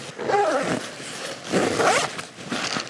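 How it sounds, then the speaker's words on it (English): A U-shaped zipper on a hunting backpack with a frame built in Boise, Idaho, is pulled open in three quick raspy runs, close and crisp, with short pauses between. "U-shaped zipper for easy access."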